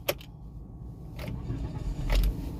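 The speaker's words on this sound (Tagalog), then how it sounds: "I-start natin yung ating sasakyan." An automatic car starts in neutral with a short cranking burst, then its engine settles into a quiet, low idle, with a couple of faint clicks and rattles around it.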